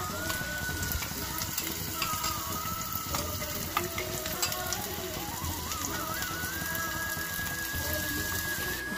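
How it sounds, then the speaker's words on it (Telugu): Sliced onions fry in a pan with cumin seeds and green chillies, making a continuous sizzle mixed with scraping and clicking stirring sounds, and a faint tonal line threads through it. "ఉల్లిగడ్డ వేసుకుందామండి ఇప్పుడు"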